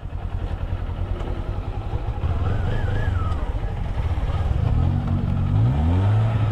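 A car engine revs close by, its pitch climbing and dropping through repeated pushes on the throttle while the handbrake stays pulled on.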